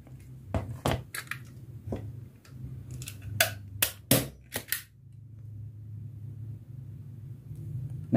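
A 3-in-1 staple gun, a Molar or Deli model, fires staples in a rapid run of sharp, close snapping clacks at irregular intervals, followed by quieter background with no speech.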